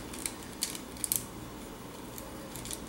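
A knife slicing into a soft eggfruit, giving a few faint, sharp clicks and snips spaced apart over a quiet background.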